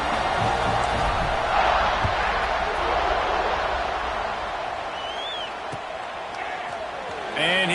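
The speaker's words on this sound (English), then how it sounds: "this crowd is buzzing after that last score" Dense crowd roar in a football video game, a steady loud buzz of many voices filling the whole stretch, with a game commentator talking over it.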